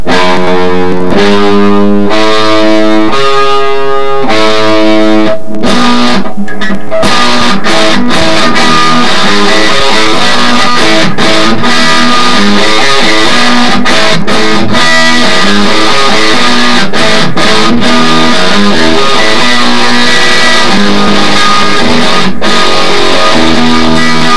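A heavily distorted electric guitar plays a loud, driving riff with repeated chugging notes and sharp stops, steady and up close with no talking.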